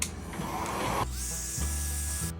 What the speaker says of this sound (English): I'm just gonna take the blow dryer to this because we're working against time here.